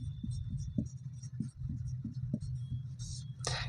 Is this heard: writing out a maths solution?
yes